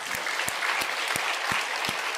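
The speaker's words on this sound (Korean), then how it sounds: "우리 하나님께 영광 돌린 우리 장로님들 위해서 박수 한번 하십시오." A church congregation applauds its elders during a Sunday worship service, a steady wash of clapping from a full sanctuary with a few louder individual claps standing out at a regular pulse.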